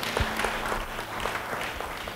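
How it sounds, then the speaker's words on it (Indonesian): A church congregation claps in response to the preacher, a moderate, steady patter of many hands lasting a couple of seconds with a faint hum beneath. "Yang setuju beri tepuk tangan."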